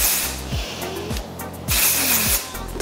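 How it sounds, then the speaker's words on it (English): Bursts of dry shampoo spray aimed at hair, heard as broad airy hisses repeating several times in quick succession with short gaps between them, close and fairly loud. "this is a dry shampoo. And I like this because it's for brunettes"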